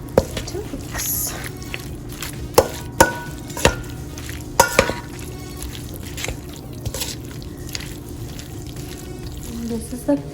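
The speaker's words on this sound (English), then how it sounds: "So I added 2 big scoops of mayonnaise, and now I'm just going to mix." Spoon mixing mayonnaise into chicken tostada filling in a bowl, giving soft wet squishing and stirring with a few sharper clacks against the bowl, close up, over a faint background hum.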